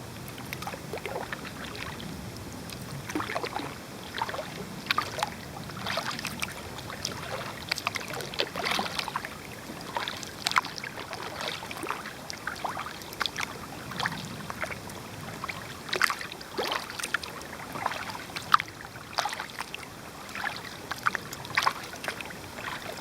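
A canoe drifting downstream on a river current beside floating vegetation, with soft intermittent water laps, drips and light knocks against the hull, quiet and close over a faint hushed background.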